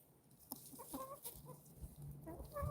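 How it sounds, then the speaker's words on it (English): A rooster in a backyard chicken flock gives short, scattered clucks and soft calls, close by, with faint farmyard ambience between them. "look how beautiful that rooster is."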